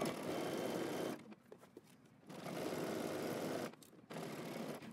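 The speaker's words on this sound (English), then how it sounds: "we're going to stitch all the way around using a zigzag stitch again." A sewing machine runs a zigzag stitch around a dress hem, whirring steadily in two long bursts with a short pause between and a brief restart at the end, close and alone.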